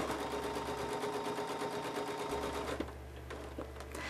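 A sewing machine quilting a pinwheel with a ruler foot runs in a fast, steady mechanical stitching patter up close, then slows and stops near the end.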